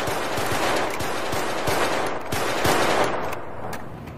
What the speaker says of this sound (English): reports of gunfire